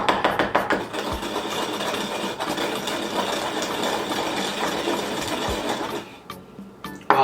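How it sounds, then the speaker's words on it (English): Seeds being crushed in a mortar, a rapid gritty grinding and scraping that runs steadily at close range, then eases off near the end with a few brief knocks. "We're gonna take our mortar right here"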